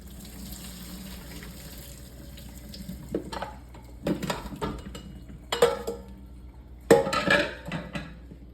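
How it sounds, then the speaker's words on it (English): Boiled potatoes drained at a kitchen sink, with bursts of pouring water splashing into the basin and light clatter of a pot, separated by quiet gaps, close and moderately loud. "we're gonna drain our potatoes"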